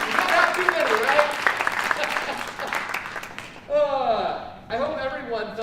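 Audience applause after an opera performance, a broad wash of clapping filling the room for several seconds, then fading as voices speak over the end.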